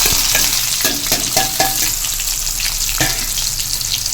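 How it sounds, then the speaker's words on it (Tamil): Onions frying in a pan right after curry leaves for an egg curry, a loud close sizzle with scraping stir strokes and a few sharp clinks of a spoon against the pan. "கருவேப்பிலைக்கு அடுத்தது வெங்காயம் போட்டு"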